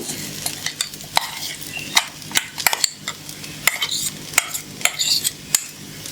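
Ground spice paste is added to toasted rice for vegetable pulao and stirred, with repeated sharp metal spoon scrapes and clinks against the pot over a soft frying sizzle.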